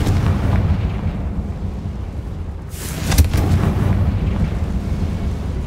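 Explosive spells cast in the video game Hogwarts Legacy, a deep rumbling boom with a rolling blast that swells and decays over a heavy low roar, loud and near.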